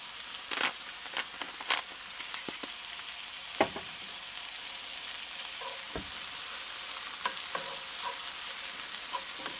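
Tomatoes sizzle steadily in a pan for a frittata, a constant fine hiss with occasional scrapes and clicks of stirring, moderately loud and close, with no talking.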